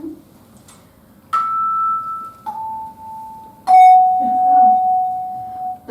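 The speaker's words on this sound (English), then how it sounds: "Do you want to just play a chime?" Tuned handbell-set chimes are struck three times in succession, each a clear ringing tone stepping lower in pitch and sustaining until the next strike, close and bright, with faint voices murmuring in between.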